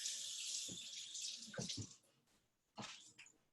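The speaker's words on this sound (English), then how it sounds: "I'm gonna give my hand another quick rinse." Hand rinsed under a running kitchen tap while cooking, a close, hissing water stream that breaks off briefly and then starts again, with soft splashing and no talk.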